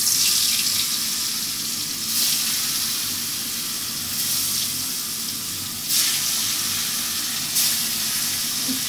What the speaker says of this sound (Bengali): তো মাছটা আমি দিয়ে দিই।